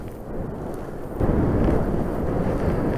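Strong gusting wind, over 25 mph, buffets a hillside slope-soaring site, a steady loud low roar that swells in force about a third of the way through and stays heavy to the end, with no voices.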